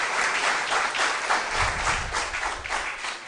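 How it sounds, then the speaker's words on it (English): Applause for the school teams at a quiz competition, a lively, fairly loud burst of many people clapping, slightly uneven in intensity throughout. "A round of applause to our teams once more, please"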